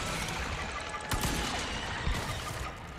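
Gunfire in Resident Evil 4 Remake aimed at sleeping enemies: two sharp shots about a second apart over a steady low game ambience, fairly quiet overall.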